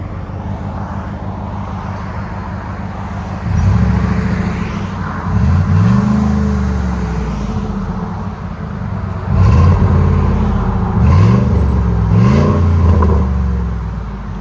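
A 2008 Ford Explorer with a 4.6L V8 and Gibson cat-back exhaust revs in a shop setting, its deep throaty exhaust swelling in three or four strong throttle blips over a steady idle rumble, loud and close with no talking.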